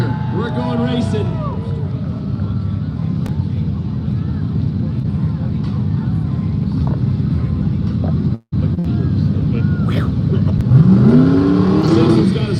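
Race cars at a no-prep drag racing event in the woods rev and roar steadily over a noisy crowd, with a brief cut in sound partway through and a rising engine whine near the end.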